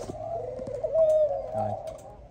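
A Malaysian spotted dove coos close by in steady, resonant calls that run almost unbroken, with faint background noises and no talking.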